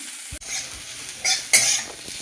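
Ivy gourd (kundru) fries in a pan until reddish, giving a steady close sizzle broken by a sharp utensil knock and a couple of louder scraping stirs.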